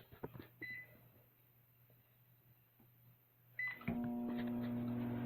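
A quiet low electronic hum, then a short beep and a louder steady whirring drone as a microwave starts running in a video game.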